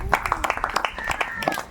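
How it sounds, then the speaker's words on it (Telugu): A church congregation at a Sunday service claps in quick, rhythmic beats while a voice speaks over the clapping. "గట్టిగా చప్పట్లు కొట్టండి"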